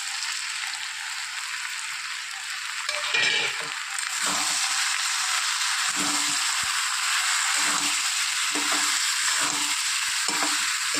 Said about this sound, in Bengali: ভালো করে সমস্ত মশলা দিয়ে কষিয়ে নেব।